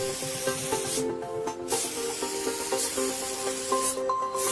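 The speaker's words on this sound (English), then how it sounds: "This product sprays as a pebble spray pattern." Short hissing bursts of Northstar contact adhesive spraying in a pebble pattern repeat every second or so, close and steady, over a soft tonal musical background.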